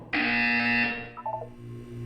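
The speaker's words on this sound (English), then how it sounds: "You will hear a buzzer." A loud, steady alarm-like buzzer in the video game Portal 2 starts abruptly and holds for about a second, then cuts off, followed by a few fainter electronic blips over a low hum.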